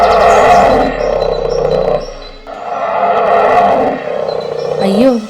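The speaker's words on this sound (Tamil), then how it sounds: "தன் மொபைலில் கரடியின் உருமலை ஒலிக்க செய்தார்" A bear growl played back through a mobile phone speaker, a loud, sustained rumbling roar in two long swells with a short break between, ending in a brief rising cry.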